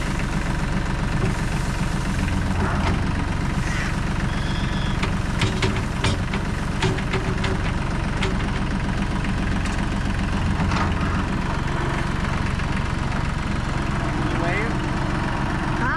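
A tractor engine idles and chugs continuously with a low rumble, running steadily throughout during fall mulch work with wood chips, while people talk nearby.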